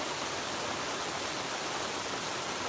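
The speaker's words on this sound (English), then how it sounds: "watching that waterfall come in here." A waterfall pours into lock 17 of the Erie Canal, making a constant, even rushing hiss at moderate distance with no pauses or other sounds.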